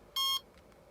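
A single short electronic beep from a Soviet ELAT radiation alarm meter detecting gamma radiation, bright and tonal, sounding once close up against a quiet background.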